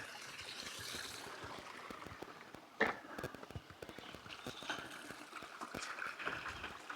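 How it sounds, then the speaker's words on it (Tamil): Water spills lightly down Kuthumkal waterfall in Kerala during summer, a steady soft rushing and trickling with a few nearby knocks and footstep-like taps over it. "ஃபால்ஸ் தண்ணி விழுகுது"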